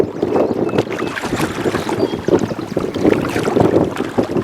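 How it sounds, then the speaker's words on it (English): Breezy wind buffets the microphone on a boat trip down the South Saskatchewan River, gusty low rumbles and flutters rising and falling throughout, loud and close, with no talking. "little breezy, eh, Lionel?"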